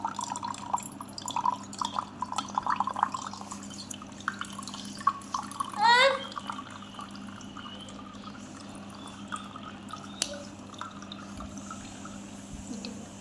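Karpooravalli (Indian borage) leaf decoction is strained. Faint, irregular drips and small trickles of liquid run through, with a brief swishing pour in the middle and a low steady hum behind.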